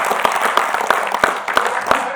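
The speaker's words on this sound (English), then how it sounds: "So I would like to clap for each one of you sitting in this room doing this kind of job." A room of sales staff at a keynote applauds, sharp hand claps landing in a loose, repeated rhythm, fairly close and moderately loud, with a faint murmur of voices beneath.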